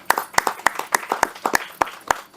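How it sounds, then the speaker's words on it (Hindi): Sparse, distinct hand claps ring out at a film trailer launch event, a handful of people clapping in an uneven rhythm, moderately close and fairly quiet. "आपके लिए तालियां सर।"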